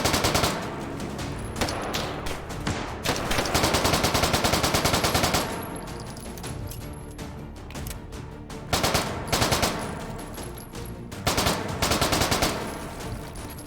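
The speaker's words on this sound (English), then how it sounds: "Heavily armored enemies, why not submachine gun?" Submachine gun fire in the virtual reality shooter H3VR against heavily armored enemies: loud, rapid automatic bursts in several strings separated by brief pauses, close and dominant throughout.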